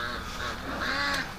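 Ducks on a large snowy farm flock call in a faint, overlapping jumble of honks and quacks at a distance, continuing without talk.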